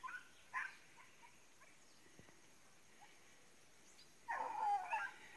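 Hunting dogs whimper and yip on a forest trail, faint and distant at first, then a louder burst of high whining near the end over quiet background hiss.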